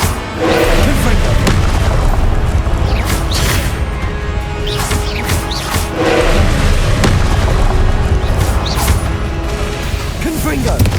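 Repeated Confringo blasting spell explosions in the video game Hogwarts Legacy, a dense continuous barrage of loud booms, crashes and whooshes, with voices shouting over the din.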